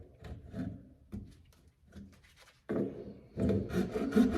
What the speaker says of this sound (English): Or just take a regular old hacksaw blade.